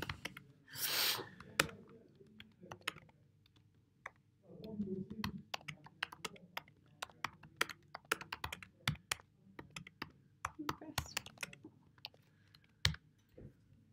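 Someone typing on a computer keyboard during a digital test session, irregular bursts of close, crisp key clicks with pauses between, and a few brief murmurs of a voice in the background.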